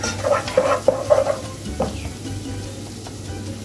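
A spoon stirs soup seasoned with pepper and cumin frying in a pot, several quick scraping clinks in a short run over a steady sizzle, then the sizzling carries on alone.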